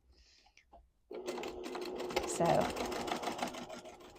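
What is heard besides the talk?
sewing machine stitching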